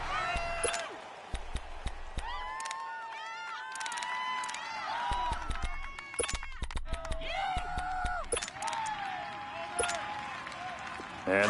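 Stadium crowd noise in an American football video game on PS4, a continuous roar of cheering with whistles and rising shouts throughout, heard under commentary and game sound effects.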